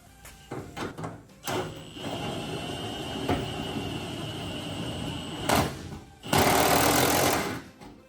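Stainless steel bolts on a tank being tightened with a power tool in a shop, giving bursts of mechanical whirring and rattling, a long steady run followed by a louder, harsher final burst, close by and without talk.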